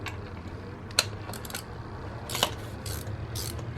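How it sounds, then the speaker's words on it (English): Ratchet turning to tighten a spark plug, giving a few faint, sparse clicks and metallic ticks in short irregular bursts, close and quiet. "now I grab my ratchet"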